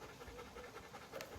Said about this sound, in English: I'm just petting the panting dog